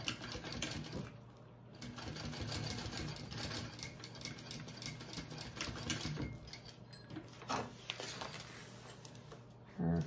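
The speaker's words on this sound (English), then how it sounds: "And you're top stitching along the bottom gusset piece you just added." Sewing machine top stitching along the bottom gusset of a bag, a continuous close, fast stitching whir running the whole time with brief shifts in pace.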